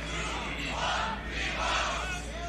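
Crowd at a beatbox showcase battle shouting in unison, a loud, dense mass of voices swelling in two waves of a call-and-response countdown.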